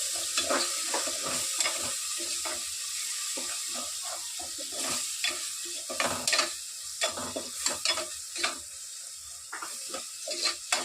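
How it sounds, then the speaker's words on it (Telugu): A spoonful of ginger garlic paste sizzles in oil with tomatoes for a village-style country chicken curry. A spoon stirs it in brisk, uneven scrapes that rise over the steady frying hiss, with no talking. "అల్లం వెల్లుల్లి పేస్ట్ వేసిన తర్వాత బాగా కలుపుకోవాలి"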